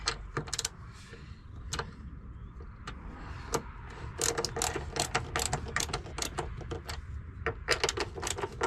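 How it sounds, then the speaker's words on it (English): A ratchet socket wrench tightens a bolt on a Fiat Ducato front mud flap, with bursts of rapid clicking strokes close by over a low background hum. "then just tighten it up with your socket"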